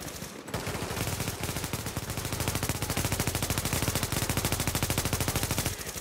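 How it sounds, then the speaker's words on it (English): Rapid, sustained automatic gunfire from computer-controlled characters in a video game, a dense, steady rattle of shots running almost the entire time, loud and close with no talk over it. "Who shot me? This is the NPC shooting."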